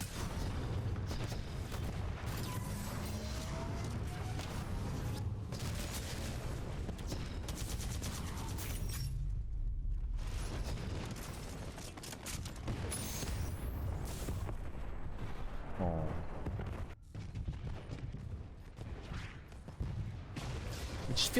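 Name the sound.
anti-Titan weapon firing in video game Titanfall 2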